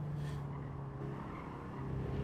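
An engine-swapped Honda Civic in Gran Turismo 7 drones steadily under throttle, with a continuous mid-pitched engine hum and faint tire noise.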